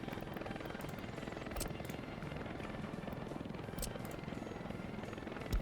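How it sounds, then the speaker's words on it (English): A helicopter in the city-building game Workers and Resources: a steady, fairly faint rotor drone with a broad hum throughout, holding at a constant level as it approaches, with no voices. "I hear the helicopter approaching."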